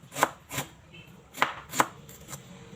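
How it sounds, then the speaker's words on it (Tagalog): A knife chops through ginger on a cutting board in a home kitchen, giving five or six sharp, separate cuts at an uneven pace. The strikes are close and crisp, with a quiet gap between each one. "At habang naghihiwa po tayo ng luya dyan"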